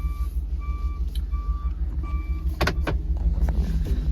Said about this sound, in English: you can hear it's got the backup alarm as well there